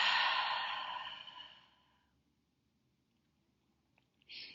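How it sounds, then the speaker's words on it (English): One slow, deep breath during a guided meditation, a long audible exhale fading out over about two seconds, then near silence before a short sniff-like intake at the end. "take a nice deep clearing breath with me. Go ahead and inhale and exhale."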